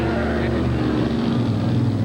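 Grave Digger, a monster truck at a 1990 TNT Monster Truck Challenge in Bowling Green, Ohio, gives off a loud, constant engine rumble with a deep, throbbing growl that carries through a brief burst.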